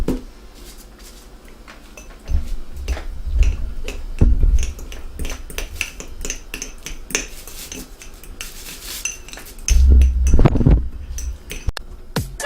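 A fork crushes raspberries in a bowl for vegan, allergen-free, gluten-free biscuits, giving repeated clinks, scrapes and rubbing taps, with heavier dull knocks in a couple of bursts.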